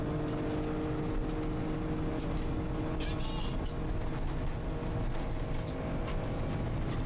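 A kei car races on a track, its engine a loud continuous drone that never lets up, with a brief higher whine partway through.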